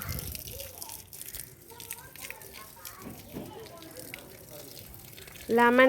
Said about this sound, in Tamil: செடிக்கு தண்ணி ஊற்றுறேன்.